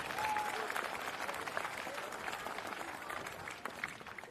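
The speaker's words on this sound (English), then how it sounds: "they need a great big round of applause as well" Crowd applause rings out at a primary school football championship ceremony, a sustained, fairly distant wash of clapping from many people that eases slightly near the end.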